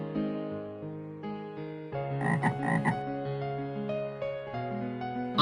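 A cartoon frog in a Hindi children's story croaks in a steady run of tonal, voiced calls, loud and clear with no speech over it.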